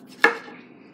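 A knife cuts once into a dragon fruit, a single sharp chop on a cutting board that fades quickly, close and fairly loud, with no talking.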